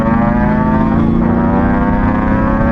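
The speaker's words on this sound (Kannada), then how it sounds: "ಅಬ್ಸರ್ವ್ ಮಾಡಿ ನಾನು ಥ್ರಾಟಲ್ ಕೊಡೋದನ್ನ" A 2002 Yamaha RX 135 four-speed two-stroke motorcycle engine is revved on the throttle around 5000 RPM, giving a loud, close, steady buzzing drone with a brief dip and recovery in pitch midway and no talking.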